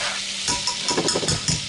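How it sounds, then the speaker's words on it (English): Food sizzles in a pan as it is stirred, a loud close hiss with quick rhythmic scraping strokes of the utensil; no voices. "Just stir this up."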